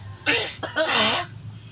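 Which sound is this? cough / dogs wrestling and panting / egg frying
cough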